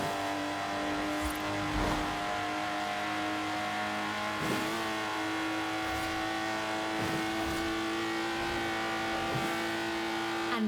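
Lotus Exige engine in Forza Horizon 4, a steady high-revving drone with sustained tonal whine that holds throughout, punctuated by a few brief transient knocks, loud and close with no talk.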